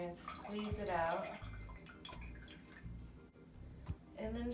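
Liquid drips and trickles from squeezed flower-ink plant material, a soft close wet patter with small splashes, continuing under a quiet voice.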